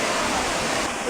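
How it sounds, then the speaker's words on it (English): Waterfall heard up close as a loud, steady broadband rush of falling water, filling the whole short moment without pause. "So that was a waterfall."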